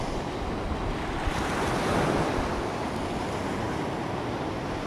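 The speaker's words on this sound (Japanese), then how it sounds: "この海のね波のさざ波を見てるだけでもなんか癒されますね。" Small ocean waves wash steadily onto the shore in a continuous, loud surf roar with some wind noise on the microphone, and no voices.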